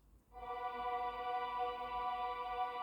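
An old-style piano or synth tone run through a Waves J37 tape emulation enters after a brief hush and holds as a sustained, harmonically rich chord over a low hiss, steady and alone.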